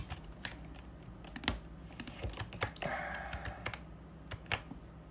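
Code typed on a computer keyboard, with irregular clusters of key taps over a quiet background hum and one longer rustling patch in the middle, close and moderately soft.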